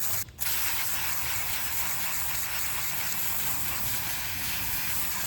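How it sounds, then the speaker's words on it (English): Garden hose rinsing water over the prepainted bumper of an 8th-gen 2006–2011 Honda Civic, a continuous close spraying hiss with a brief break near the start. "I'm gonna give it a quick hose off."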